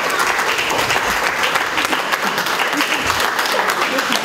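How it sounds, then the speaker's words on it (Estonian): A crowd applauds steadily and loudly, a dense wash of clapping that holds for several seconds without letting up. "Nii et suur aplaus Mahtale."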